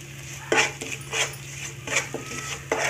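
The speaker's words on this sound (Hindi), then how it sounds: "इसको अच्छे से भून लीजिए।" Spatula scraping and stirring in a pan over medium flame as masala with salt and turmeric is roasted for sabudana vada, a series of distinct close scrapes and clinks under a faint steady hum.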